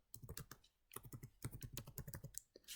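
Typing on a computer keyboard: a quick, close run of light key clicks in irregular bursts, with a short pause near the start and no talking.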